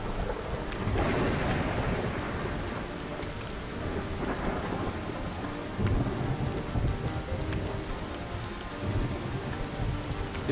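A storm section of the Crumble video game: steady heavy rain on surfaces with low rumbling thunder rolling beneath, dense and continuous, loud and enveloping.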